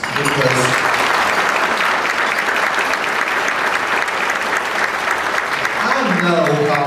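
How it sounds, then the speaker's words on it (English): Dinner audience at the 2007 Kefauver Dinner in Tennessee breaks into a big, dense round of applause that holds steady throughout, with a voice speaking over it at the start and again near the end. "you just need a big round of applause"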